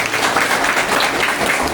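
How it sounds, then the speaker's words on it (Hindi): An audience at a DXN marketing-plan speech applauds, a brief, dense burst of steady clapping from many hands in a hall. "ताली हो जानी चाहिए।"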